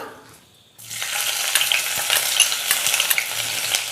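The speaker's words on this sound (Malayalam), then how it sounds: "വെളിച്ചെണ്ണ ചൂടായി വന്നിട്ടുണ്ട് ഇനി നമുക്ക് ഇതിനകത്തേക്ക് ഇഞ്ചി ഇട്ട് കൊടുക്കാം" Ginger dropped into hot coconut oil in a pan for a clam meat fry, a brief quiet moment, then a sudden loud, close sizzle that keeps crackling and hissing steadily, with no talking.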